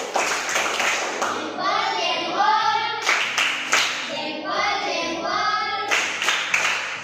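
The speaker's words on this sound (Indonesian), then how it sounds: "Tepuk salut dulu buat kelompok 1." A classroom of children performs a tepuk salut, a rhythmic salute clap, with bursts of group clapping in a set pattern between chanted words. The children's voices are heard between the claps.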